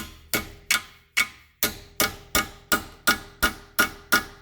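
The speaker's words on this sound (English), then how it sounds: "Grab a small pry bar here like this that has an impact end on it so you can smash it with a hammer and then begin smashing." Hammer blows smash the impact end of a small pry bar against a rusted ball joint on a 2006 Subaru Forester: about eleven sharp metallic strikes in a steady rhythm, close and loud, with no talk.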